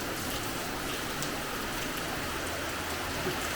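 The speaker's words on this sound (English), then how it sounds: "Pouring rain." Heavy pouring rain during a storm in Bali, a dense, steady broadband roar of drops drumming on surfaces, loud and unbroken with no voices.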